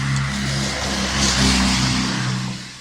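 A car passes nearby on a road in the rain, its engine and tire noise swelling to a peak midway and then fading away, with no talking.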